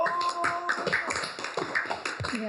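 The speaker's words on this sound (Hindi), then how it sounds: "वाह, तालियां बजाई आपने, वाह वाह।" A studio audience at a trivia game show claps in short, uneven bursts, quick light hand taps scattered over a couple of seconds, fairly close and moderate in volume, with no one speaking.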